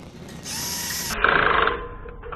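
Power drill driving a screw through tin panelling on a John Deere 9760 combine: a brief high whine spins up, then a louder grinding burst as the screw bites and seats, ending abruptly, close and alone.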